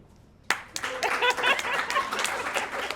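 A comedy club audience bursts into applause and clapping after a moment of quiet, with scattered laughter and voices mixed in, loud and sustained.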